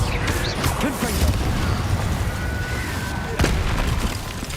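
A Confringo spell blasts in a Hogwarts video game: booming explosive bursts and crashing impacts stack over continuous loud game ambience, with a few sharp cracks standing out.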